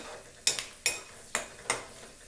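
Peanuts stirred in hot oil for poha, four sharp spoon-on-pan scrapes spaced evenly apart, each trailing into a light sizzle, close and quiet with no speech.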